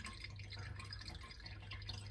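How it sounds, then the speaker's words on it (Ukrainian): Water runs from a household tap after its valve membrane was replaced, a thin but unbroken stream making a steady, close trickling hiss with no pauses and no talking. "зараз поставимо, подивимося, як вода тече"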